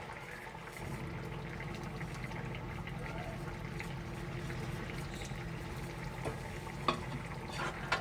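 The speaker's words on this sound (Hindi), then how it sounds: "घी गरम हो चुका है, अब इसमें मैं गरम मसाला ऐड कर दूंगी" Steady sizzling and crackling of garam masala frying in hot ghee, a continuous hiss with occasional clinks, close by.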